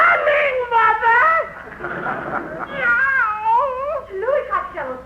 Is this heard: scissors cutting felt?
no